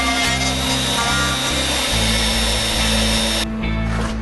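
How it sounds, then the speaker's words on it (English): A power router cuts the cavity cover hole in the wooden body of a Les Paul style electric guitar, guided by a template; a loud, steady high whine with continuous grinding runs throughout, close up and with no talk. "I can line up my template and route the cavity cover hole."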